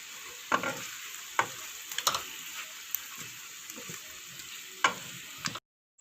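Masala with tomatoes and coriander powder fries in a pan for veg pulao, a steady close sizzle broken by scattered scraping and stirring knocks from a spoon.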